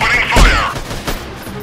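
A loud sniper rifle shot booms close by in the video game Freeman: Guerrilla Warfare, its report followed by a lingering rumble and a second fainter crack.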